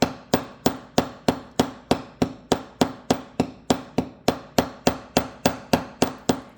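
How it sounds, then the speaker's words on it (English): Hammer gently tapping a metal wire loop while the piece is turned, a steady run of about eighteen sharp, close metallic strikes at an even rhythm with no talk. "I'm just going to gently hammer the arc of the loop away from me"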